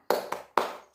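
Rhythmic 'tepuk semangat' spirit clapping by a group: a sharp burst of claps, a second lighter clap, then another strong clap, close and fairly loud, with no talking.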